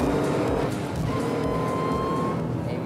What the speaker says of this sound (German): Dieses Liedchen, was der Kompressor surrt.